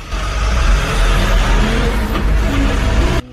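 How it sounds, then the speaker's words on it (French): Heavy container trucks rumble past on a road at the Mali-Senegal border, a loud, steady engine drone with a brief air-brake hiss, running continuously before cutting off near the end. "plusieurs camions de conteneurs vont et viennent dans les deux sens"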